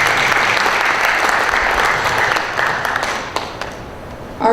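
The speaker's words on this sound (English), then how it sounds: "Big round of applause for our judges" A pageant audience in Armada applauds the judges with a full, even roar of clapping that holds steady, then slowly thins toward the end as a voice cuts in.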